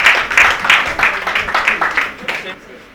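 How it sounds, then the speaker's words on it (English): Audience applause for a team at the end of a group presentation, a steady burst of clapping from a modest crowd that gradually thins out over a few seconds. "Let's clap for Team 3"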